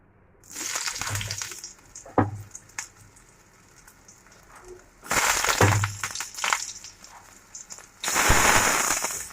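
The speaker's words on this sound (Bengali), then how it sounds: "প্রথমে কড়াই তেল দিয়ে দিয়েছি তেল দিয়ে সয়াবিনটা আর আলুটাকে একটু ভালো করে ভেজে নেবো" Soybean chunks and potatoes fry in hot oil in a wok, giving bursts of crackling, spattering sizzle that rise and fall in loud waves with brief quieter gaps between.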